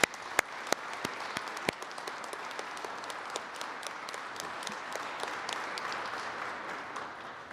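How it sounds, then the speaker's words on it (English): An audience at an apprenticeship program ceremony applauds award winners with a dense, sustained wash of many hands clapping at a moderate, even level for several seconds. "Let's have another round of applause for the award winners."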